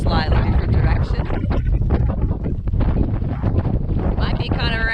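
Strong wind buffets the microphone over choppy water, a continuous rough rumble with water sloshing around a boat.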